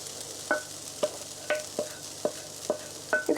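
Tofu being fried in a pan, a steady close sizzle broken by sharp spatula clacks about every half second as it is stirred, with no talking.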